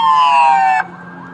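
A loud police car siren wails up close in a steady electronic tone, then cuts off abruptly partway through, leaving a faint engine hum; no voices.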